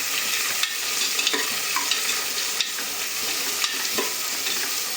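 Sliced onions fry in a pan for chicken mappas, a dense, bright sizzle running throughout with occasional clicks and scrapes of a stirring spoon, close and steady, with no talking.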